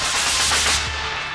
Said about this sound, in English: The next key shot in the fireworks sequence is when the Weasley twins themselves enter